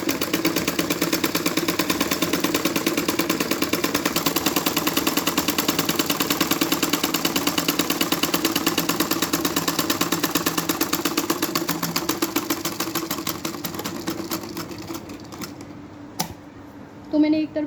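A sewing machine stitches a skirt plazo in a fast, even mechanical rattle that runs steadily close by, then slows and stops near the end.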